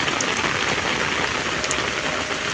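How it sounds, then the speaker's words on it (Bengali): Heavy rain falling on a waterlogged street, a loud, dense and even downpour hiss that stays constant from start to finish, with no voices. "প্রচন্ড বৃষ্টি হচ্ছে।"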